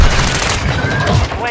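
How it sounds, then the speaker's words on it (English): A shotgun fires in a video game, loud and close, as a dense burst of blasts packed into a second and a half, with voices faintly underneath. "Change that shotgun."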